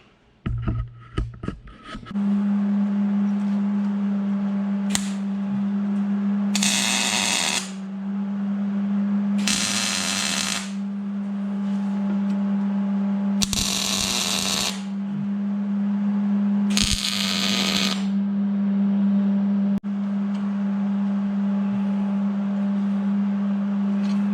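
Tack welding of steel shock tower plates on a Suzuki Samurai: four separate crackling bursts, each about a second and a half long, ring out over a steady electrical hum, close up, with no talking.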